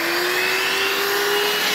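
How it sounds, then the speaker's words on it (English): A Dibea F6 cordless stick vacuum cleaner runs steadily at close range, a loud, constant motor whine with an airy hiss and no talk. "it's not a bad little vacuum"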